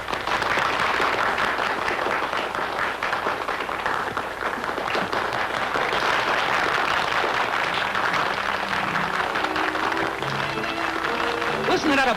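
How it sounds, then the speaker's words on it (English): Crowd applause and cheering in a 1938 fight stadium, a dense, steady roar of clapping sustained for about twelve seconds, with faint voices and brief tonal sounds near the end. "Listen to that applause."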